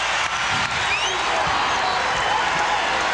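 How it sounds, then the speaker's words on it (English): An arena crowd roars steadily at Game 4 of the 1996 NBA Finals between the Chicago Bulls and the Seattle SuperSonics, a loud, continuous wash of cheering and clapping. "And the crowd gets right to it."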